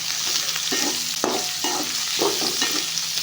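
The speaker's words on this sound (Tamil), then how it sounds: "வெங்காயத்தை போட்டதுக்கு பிறகு நல்லா வதக்கணும்." Onions sauté in a pan for a mango and drumstick sambar, a constant sizzle broken by several spoon scrapes and knocks as they are stirred.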